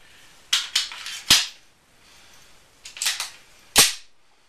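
A semi-automatic pistol reloaded blindfolded: the magazine swapped and the slide racked. Close, sharp metallic clicks come in a quick cluster of three, then after a pause a pair and a final loud snap, with no talk.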